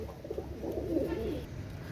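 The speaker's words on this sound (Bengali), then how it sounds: "এই আরেক জোড়া রামপুরি কবুতর মার্শাল্লাহ স্ট্যান্ডিং কোয়ালিটি" Soft, low cooing of Rampuri pigeons rolls along steadily, fairly faint over a light background hiss.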